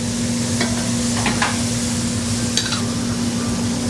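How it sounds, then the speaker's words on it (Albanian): Shrimp from the sea's surface go into a hot frying pan over rice, giving a steady low sizzle with a few brief scraping clatters, close and continuous, no voices. "Shtojmë edhe karkalecat e sipërfaqes"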